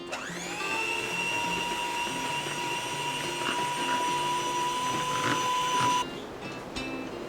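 An electric mixer beats muffin batter with a steady, high whine that spins up at the start, holds evenly for about five seconds, then cuts off abruptly, leaving faint clatter.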